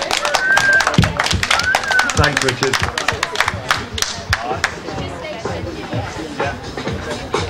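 An audience at a relay athletics event claps in a scattered, sharp burst of many hands, loud at first and then thinning out, with crowd chatter beneath and a voice briefly speaking.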